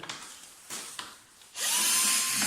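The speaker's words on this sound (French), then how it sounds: "Donc pour ça, vous avez besoin de dévisser la selle." Power screwdriver backing out motorcycle seat screws, a few quiet handling taps and then a loud, steady high-pitched whine that runs continuously to the end, close by, with no talking.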